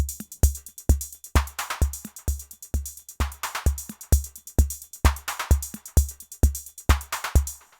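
Eurorack drum module playing an accented kick pattern: repeating deep electronic thumps, some hits louder and brighter, with crisp hi-hat and noise bursts woven through a steady loop, no voices.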